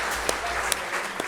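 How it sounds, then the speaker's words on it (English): Audience at a football club's season awards night gives a short burst of applause, a brief spell of mixed clapping with a few louder claps standing out. "Let's give a round of applause again for 200 games."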